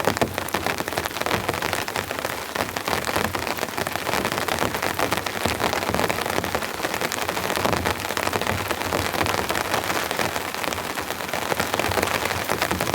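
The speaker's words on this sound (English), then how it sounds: "Hear that rain?" Steady, dense rain patters on a tent and tarp at a rainy campsite with hail, a loud continuous drumming close by with no talking.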